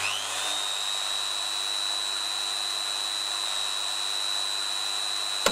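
An electric drill machine runs steadily with a high, even whine and constant motor hum, then cuts off abruptly with a click at the end. No one speaks.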